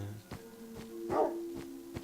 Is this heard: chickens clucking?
no